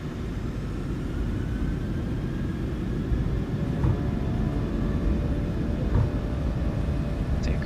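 Airliner engines at takeoff thrust in MSFS2020 give a steady, loud broadband roar and rumble that holds evenly throughout, with faint whining tones layered on top.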